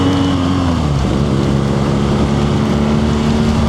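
A BMW R nineT Scrambler boxer motorcycle engine running, a loud steady drone whose pitch dips slightly then holds at an even idle-like hum, close and alone without talking.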